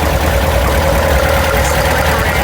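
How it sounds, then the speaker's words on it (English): Porsche 914 with a 2270 engine idling, a steady, loud, low rumbling throb that holds even and close throughout without revving. "It's idling at a really nice speed."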